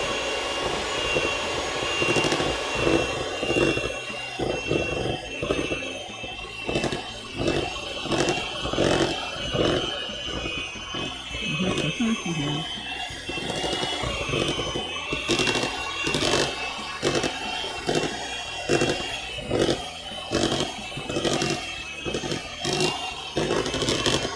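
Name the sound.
mixer mixing cake batter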